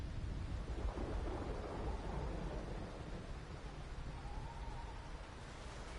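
Stormy weather in the video game Wuthering Waves, with a steady broadband rush of heavy rain and a low thunder rumble running through all six seconds, slightly louder at first and then easing, with no talk.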